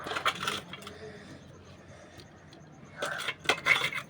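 Washed sesame seeds ground on a stone grinding slab, giving bursts of rough scraping and rubbing strokes at the start and again near the end, with a quieter stretch between.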